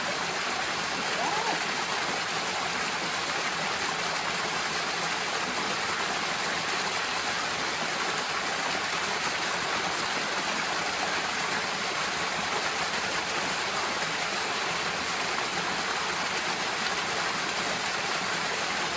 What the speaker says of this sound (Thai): เป็นน้ำตกน้ำไหลลงมาตรงนี้นะ